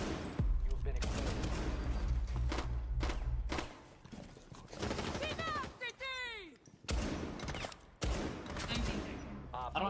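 Rapid bursts of gunfire in a video game shootout, loud and repeated with short pauses, mixed with game sound effects, rising tones and a player talking.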